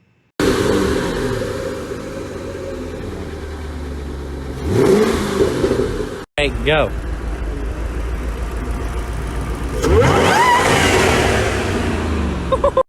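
A 1994 Mazda Miata with a 5-speed gearbox idles loudly nearby, then revs up twice in rising, roaring sweeps, with a brief shout between.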